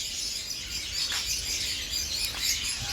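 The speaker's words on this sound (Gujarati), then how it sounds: "જાવા સ્પેરો નામ છે એનું" A Java sparrow chirps at Kankaria Lake in Ahmedabad, giving two or three short, faint calls over a steady background hiss.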